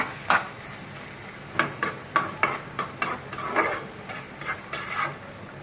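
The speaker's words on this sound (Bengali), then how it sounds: "একটু নেড়ে দেব, কারণ লেগে যাওয়ার সম্ভাবনা আছে।" A spoon scrapes and knocks inside a pot as cow tripe bhuna is stirred, a series of close clacks and scrapes over a soft sizzle, with no voices.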